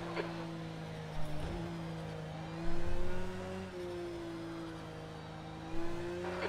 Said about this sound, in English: The engine's sounding absolutely terrible.